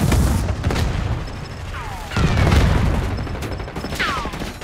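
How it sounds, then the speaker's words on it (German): A flashbang grenade goes off in Call of Duty: Black Ops 6 on the Derelict map. Several loud booms land amid a busy firefight, with descending whistling tones trailing after the blasts. "Blendgranate raus."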